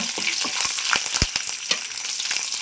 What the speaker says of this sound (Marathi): यामध्ये तेजपान बडीशेप थोडे धने मेथ्या आणि लाल मिरच्या टाकायच्या एक दोन आणि व्यवस्थित असं परतून घ्यायचं आहे